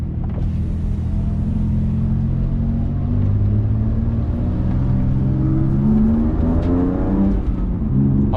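BMW M2 driving hard on track laps, a loud close engine drone rising and falling in pitch through gear changes, with continuous rumble and road noise from inside the car.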